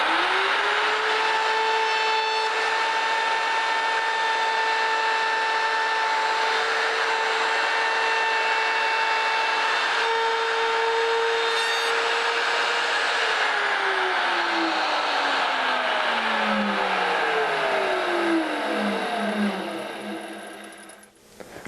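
A router cutting a dovetail joint in a guitar body using a neck angle jig: a loud, steady high-pitched whine with a sustained tone that holds for about thirteen seconds, then slides downward as the motor spins down to a stop.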